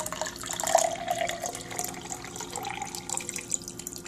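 Water filtered through a Zero Water filter is poured out for a sample, a faint, steady trickle and splash running throughout with a few brighter drips.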